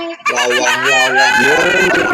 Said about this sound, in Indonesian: Ayam berkotek.